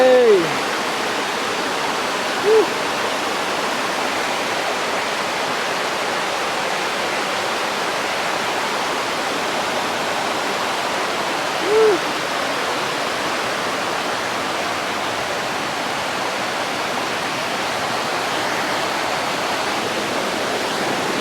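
Water rushes continuously down a small stream beside rice fields, a steady, close, broadband flow, with a couple of faint brief chirps above it.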